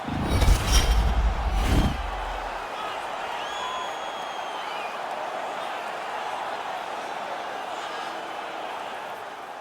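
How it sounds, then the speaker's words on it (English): Arena crowd noise from a Stanley Cup Final game in the hockey video game NHL 22: a loud burst at the start, then a steady, sustained roar of a cheering crowd for several seconds. "And the crowd's still on their feet here, Ray."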